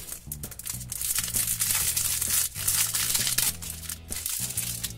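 Plastic packaging for sticker cards crinkles and crackles up close as it is torn open and handled, with continuous rustling and sharper crunches throughout.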